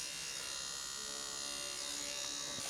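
A nano tattoo machine runs at 5 volts with its needle out about 2.5 millimeters, giving a steady, even electric buzz that stays close and constant throughout.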